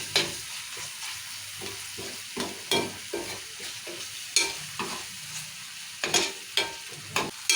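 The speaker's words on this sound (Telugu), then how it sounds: "ఇప్పుడు వేసిన మసాలాలన్నీ నూనెలో ఉడకాలి." Ginger, garlic and masala sizzle in hot oil while a spoon stirs them, with a steady close frying hiss broken by repeated sharp scraping strokes against the pan.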